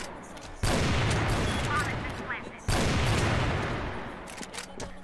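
Two long, loud bursts of rapid gunfire from the shooter game CrossFire, each starting abruptly and rattling for about two seconds before tapering, with faint clicks and effects between them.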